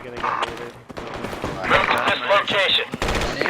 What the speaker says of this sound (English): I think those are mortars.